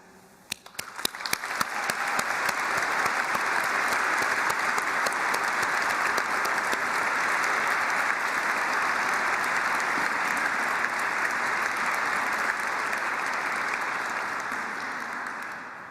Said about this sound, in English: join me in giving them a warm round of applause